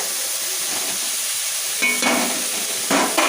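Spices fry in a pan with salt and turmeric powder in an even, hissing sizzle, close and fairly loud, joined by two short bursts of louder crackle and scraping as the pan is stirred, with no talk.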